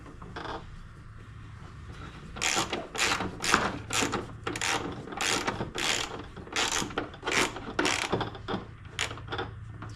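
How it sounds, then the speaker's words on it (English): A ratchet wrench with a 10 mm socket clicks in steady bursts while fastening a cold air intake on a 2010 Dodge Challenger SRT8, close and distinct with no talk. "And then we can fasten that right there. That 10 millimeter socket back out."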